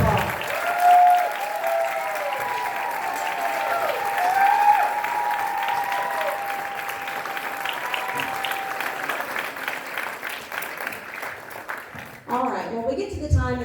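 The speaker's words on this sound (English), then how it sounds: "Give your students a round of applause" Sustained applause from an audience after a middle school honor band's spring concert, steady broadband clapping running the full length with crowd cheers and voices mixed in, thinning toward the end.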